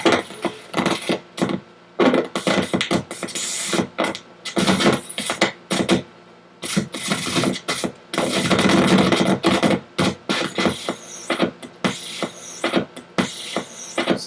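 Vinyl record playing on a turntable at moderate volume, giving choppy bursts of scratchy, crackling mechanical noise broken by short silent gaps, close and fairly loud with no voices.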